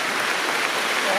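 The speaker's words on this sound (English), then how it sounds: "please join us in a minute of applause" Stadium crowd applauding during a minute-long tribute at a Leicester City football match, a dense, loud wash of clapping filling the short stretch without a break.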